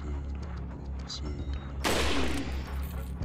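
A sudden loud burst of rapid gunfire in the video game Resident Evil 4 (Remastered) erupts partway through, over a steady background hum and faint game sounds.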